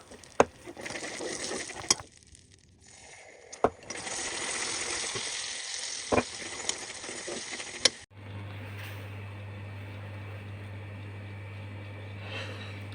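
Sugar caramelizing in a pan with butter and cream, soft sizzling and bubbling with sharp clinks of a utensil against the pan, followed by a steadier quiet sizzle and low hum.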